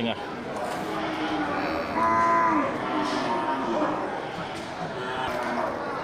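An Aceh cow lets out a long, low moo partway through, heard over steady background chatter and noise at a cattle sale.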